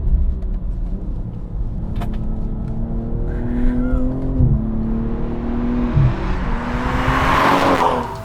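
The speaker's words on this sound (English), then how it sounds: "It's a great sounding engine." A 2022 BMW M240i with a B58 single-turbo engine is driven hard from inside, engine pitch rising steadily under load, then easing briefly as revs drop and climb again with rushing road and wind noise.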